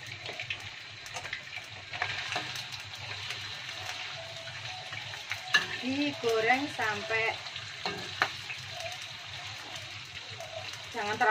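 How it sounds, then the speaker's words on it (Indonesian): Chicken for spicy fried chicken sizzles steadily in a hot pan while it is stirred, with scraping and bubbling spurts over a constant frying hiss; a voice talks intermittently underneath. "tuangkan sekalian ya ayamnya"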